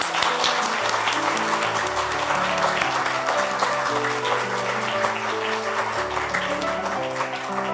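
Applause fills a hall at the 2022 Byeoksan arts awards ceremony as executives stand for introduction, a steady, dense clapping of a large audience sustained throughout, with instrumental music playing underneath.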